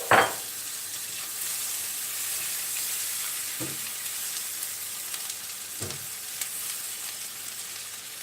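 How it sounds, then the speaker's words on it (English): Chili butter hits a hot pan with an opening burst of loud sizzle, then settles into a steady close frying hiss with a few brief knocks or stirs, no talk. "you put your garlic butter, sorry, your chili butter in."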